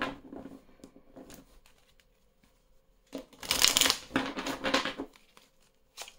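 Belline oracle cards are shuffled by hand in two bursts, a softer riffle early and a louder, busier papery flutter later, close up with no voices.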